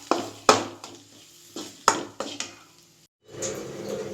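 Spoon scrapes and clinks against a pan while spices and salt are stirred into an egg curry, several sharp separate knocks and scrapes, close and clear, followed by a brief sizzling rustle.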